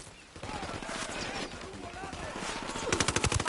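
Rapid automatic gunfire in Ghost Recon Wildlands, a dense stream of close, sharp shots that grows louder and more distinct toward the end, with voices talking over it.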